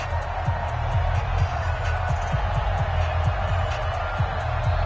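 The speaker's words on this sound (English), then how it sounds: "The crowd here in the Dome making things difficult." Stadium crowd noise inside the Dome in an EA Sports NFL video game, a steady loud roar of massed voices held at even level throughout, with low thuds scattered underneath.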